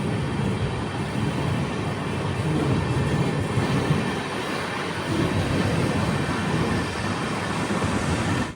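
Amrit Bharat Express sleeper coach in motion, a steady loud rumble of wheels and carriage noise filling the whole stretch with no break and no talk.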